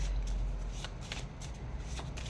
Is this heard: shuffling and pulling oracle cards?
yes